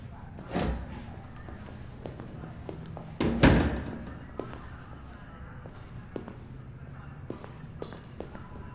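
A door closing in Detroit: Become Human, heard as a solid thud partway through, with a softer knock earlier and light taps and footsteps in a quiet room.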